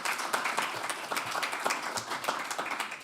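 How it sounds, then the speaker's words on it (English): Audience applause at a talk event, a dense wash of many hands clapping at moderate volume that carries on steadily for a few seconds with no voices over it. "yeah, please applaud."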